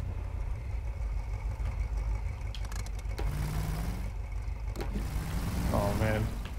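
Chevy 2500 single-cab diesel truck engine in Snowrunner cranks and settles into a low rumbling idle, with a brief rev near the end, heard beneath someone talking.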